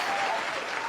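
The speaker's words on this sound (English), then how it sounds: "There is a whole stadium ready to give you a round of applause." A stadium crowd breaks into dense, sustained applause, an even wash of many hands clapping at close range with no voices rising above it, steady and loud across the brief moment.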